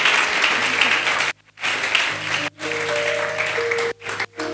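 A church congregation applauds at a sermon, with loud, dense clapping from a sizeable group nearby. The applause breaks off in brief gaps and resumes, while sustained organ or keyboard tones play underneath.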